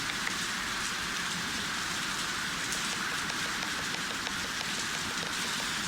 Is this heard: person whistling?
no